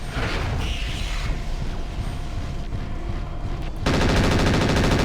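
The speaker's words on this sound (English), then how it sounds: "those blue shots coming from the Rothgar are Gauss rifles, and those hurt like hell" Gauss rifle fire from a Rothgar mech in MechWarrior 4: Mercenaries, heard as a dense, loud stream of rapid gunfire-like blasts with engine rumble, shifting into a harsher, steady mechanical buzz near the end.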